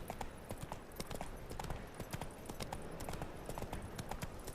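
Roach, the horse in The Witcher 3: Wild Hunt, gallops with rapid, steady hoofbeats that thud continuously at moderate distance, with no one talking over them.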